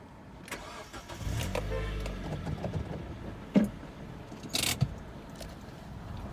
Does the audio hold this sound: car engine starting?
yes